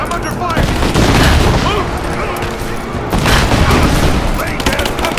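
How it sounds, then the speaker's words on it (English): Heavy gunfire and explosive booms in the video game Rise of the Tomb Raider, loud and continuous throughout with bursts of automatic fire, while shouted voices call out over the battle. "I'm under fire!"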